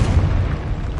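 A Confringo blasting spell explodes in Hogwarts Legacy, a dense, loud low boom with rumbling body that fills the whole short moment without any talk.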